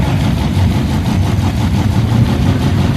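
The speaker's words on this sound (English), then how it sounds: "Old school flavor in the front engine dragster on the left-hand side." A front-engine dragster idles at the start line of a bracket race at Woodburn drag strip, a loud, close, steady low rumble with a lumpy throb and no speech.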